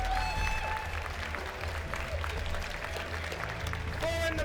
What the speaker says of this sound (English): Round of applause for shoemaker decision.